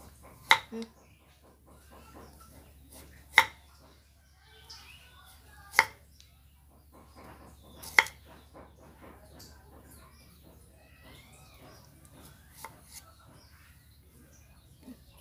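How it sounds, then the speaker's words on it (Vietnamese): A knife slices radish on a cutting board in a home kitchen. A handful of crisp, separate chops stand out clearly against a quiet background, with a few softer cuts in between. "Các bạn xắt cái phần củ cải này đừng có quá dày mà đừng quá mỏng nha các bạn."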